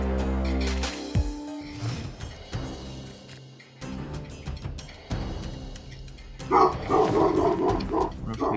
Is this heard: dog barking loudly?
yes